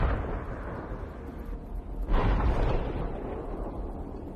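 A Ukrainian tank firing on Russian tanks: a dull distant boom rolls out early, and a second, sharper blast lands about halfway through, both decaying into a rumbling aftermath with no voices.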